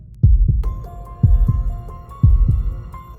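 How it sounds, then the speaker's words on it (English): A heartbeat sound effect thumps heavily in paired lub-dub beats, about three pairs at a steady rhythm. The beats are loud and low, and a faint tonal hum enters beneath them partway through. "their own heartbeats pounding in their ears"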